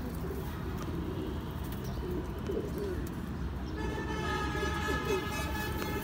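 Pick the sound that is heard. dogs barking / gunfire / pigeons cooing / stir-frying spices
pigeons cooing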